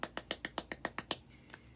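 A run of eight sharp, evenly spaced fingertip claps from hands held together at the fingertips, crisp and close, followed by a short pause and one last softer clap.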